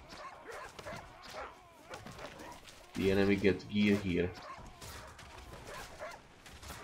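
A dog barks in the Age of Empires Online strategy game, a short burst of two or three loud barks in the middle, heard against quieter game sounds while someone talks.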